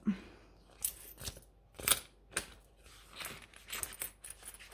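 Coins and banknotes being handled and sorted while making change, with a series of sharp metallic clinks and jangles in separate bursts, close by and with no talking.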